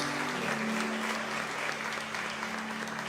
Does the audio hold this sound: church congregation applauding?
yes